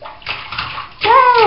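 A young girl splashes water in a bathtub, making sloshing, choppy bursts that swell and fade, and a voice rises over the splashing near the end.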